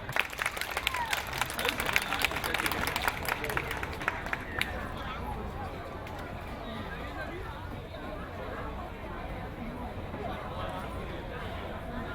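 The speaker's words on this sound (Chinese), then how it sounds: "我们掌声鼓励仁爱国小" At a Taipei elementary school Hakka folk-song performance, an audience claps in a dense burst for about four seconds, then the applause fades into a low crowd murmur and chatter.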